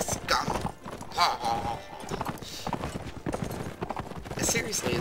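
A horse gallops in Mount & Blade: Warband, its rhythmic hoofbeats clattering in fast, uneven bursts while a voice and other game sounds come through over the top.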